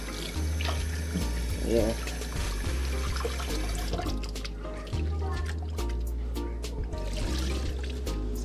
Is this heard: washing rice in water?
yes